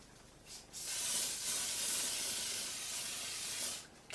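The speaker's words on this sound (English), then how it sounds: "I'll just do a quick spritz of my Garnier SPF 50 Over Makeup Mist." Garnier SPF 50 Over Makeup Mist sprays in one quick spritz, a soft, close hiss lasting about three seconds before cutting off, set against a quiet room.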